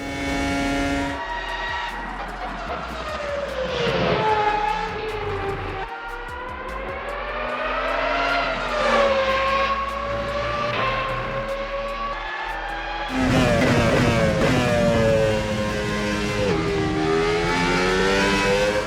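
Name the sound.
V10 race car engine, video game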